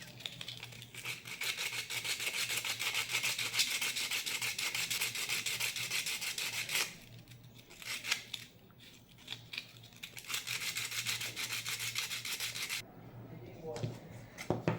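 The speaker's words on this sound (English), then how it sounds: "I have cut it and just remove those excess burrs" Close rasping strokes filing burrs off freshly cut plastic for a homemade battery holder, steady at first, then broken into short bursts with pauses, under faint background hum.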